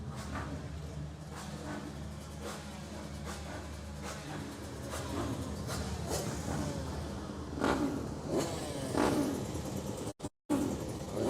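A two-stroke KTM mini bike engine idles and blips while warming up at an Irish mini bike championship race, a steady mechanical drone with periodic revs rising and falling, fairly distant, before a brief cut near the end.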